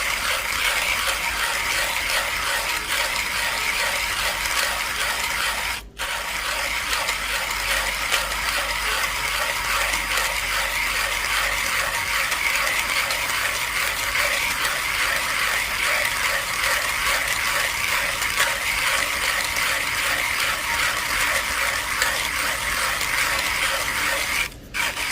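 A hand coffee grinder crushes espresso blend beans for a milk-coffee drink, giving a continuous close gritty ratcheting crunch that runs steadily throughout with only one brief pause.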